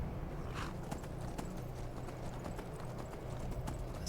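A horse's hooves clip-clop steadily in Skyrim during a survival-mode ride toward Winterhold, faint and low in level under a soft ambient bed.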